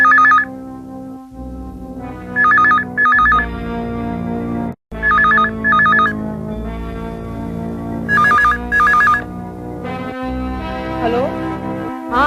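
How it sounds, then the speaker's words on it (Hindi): A phone ringtone trills in repeated bursts over loud background music, several rings spaced a couple of seconds apart. "ये फोन को भी अभी आना था।"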